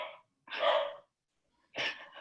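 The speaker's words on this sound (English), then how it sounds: "Can you hear my dog barking?" A dog barks indoors in three separate, fairly faint bursts spaced across a couple of seconds, with silence between them.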